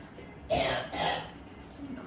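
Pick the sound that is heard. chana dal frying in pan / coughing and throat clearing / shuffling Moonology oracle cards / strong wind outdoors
coughing and throat clearing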